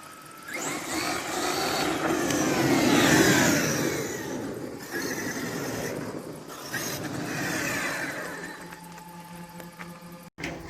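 A Traxxas X-Maxx RC monster truck's electric motor whines loudly and steadily, rising and falling in pitch as it speeds up and slows, running alone for about ten seconds before a sharp cutoff.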